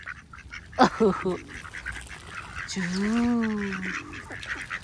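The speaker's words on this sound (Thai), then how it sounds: "เราจะให้เป็ดสีน้ำตาล ดูดิมันจะกินทันไหมเป็ดสีน้ำตาล" Brown ducks at a pond in New Zealand quack and honk while being fed, one sharp burst of calls followed by a longer drawn-out honking call, with a voice briefly heard.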